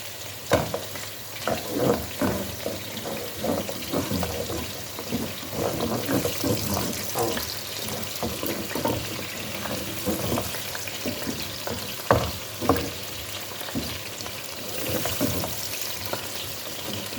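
Frozen tomatoes are added to onions frying in a pan, giving a soft, quiet sizzle with scattered clinks and stirring knocks.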